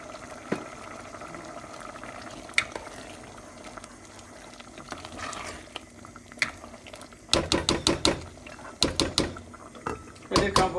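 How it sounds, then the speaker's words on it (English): A pot of Kabuli chana (chickpea) masala, seasoned with salt and sweet chili sauce, boils with a steady low bubbling hiss, followed near the end by several sharp metallic clanks and rattles close by. "Let's bring to boil."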